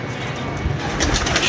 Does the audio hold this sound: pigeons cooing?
yes